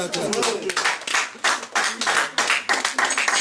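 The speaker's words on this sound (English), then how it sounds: "Clap" A church congregation claps in a series of sharp, uneven bursts, loud and close, with voices mixed in.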